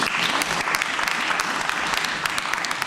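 A church congregation claps for a prophet's sermon, a dense, steady wash of many hands filling the space at close range for a few seconds.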